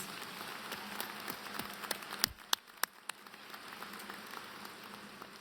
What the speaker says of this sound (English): One more round of applause for our amazing students.